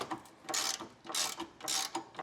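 A socket ratchet loosening 15mm grille brace bolts on a 2025 Chevrolet Silverado during a Westin HDX grille guard install, giving three quick rasping bursts of clicking at a steady rhythm, close and fairly loud, with no talk.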